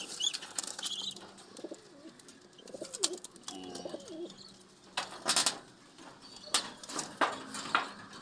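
Caged pigeons coo in soft, repeated throaty calls while bursts of wing flapping and cage rattling break in near the end, close and fairly quiet.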